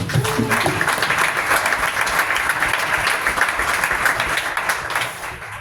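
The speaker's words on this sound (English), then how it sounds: "Let's give Pat and Fed a round of applause." A crowd at a tech demo night gives a round of applause, and dense clapping holds at a steady, loud level throughout before easing slightly at the end.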